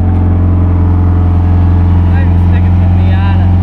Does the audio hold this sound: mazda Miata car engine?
yes